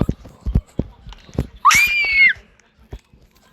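A short, loud, high-pitched scream rises and falls inside a video game, standing out over scattered clicks and taps before and after.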